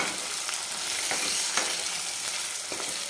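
Spices, turmeric and garam masala are stir-fried with cowpeas and potatoes in a pan. A loud, constant sizzle fills the whole stretch, with soft scraping stirs at intervals and no talk over it.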